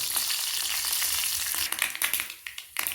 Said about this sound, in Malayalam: കടുക് ചേർക്കാം